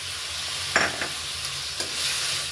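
Ginger and chili paste fries with a soft sizzle in a pan over fried onions, with a few scraping stirs, fairly quiet and steady, no voices.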